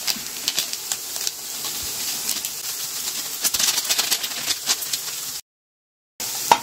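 Chili powder, turmeric and garam masala sauté with onions in a pan, giving a soft, continuous sizzle with scattered small crackles, broken by a short silent gap near the end.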